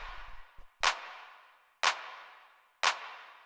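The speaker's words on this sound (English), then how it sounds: "the other percussion here is the clap" A 909/808-style clap sample hits three times at a steady, evenly spaced rhythm, each sharp crack trailing off into a long, dark reverb tail, after a few soft low thumps at the start.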